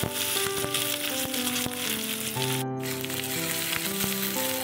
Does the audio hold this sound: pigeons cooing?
no